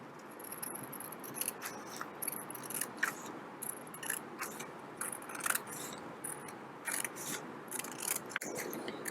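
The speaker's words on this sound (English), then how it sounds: "After that, you can just take your scissors" Scissors cutting a sheet of paper into thin quilling strips, a steady run of crisp snips and papery rustles close by, with no talk.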